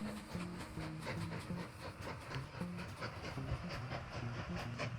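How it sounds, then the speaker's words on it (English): A train rolls along rails in the Mashinky video game, a steady rumbling run with rhythmic clicking over the track joints, constant and moderately loud with no talk. "So the train seems to be going along just fine now."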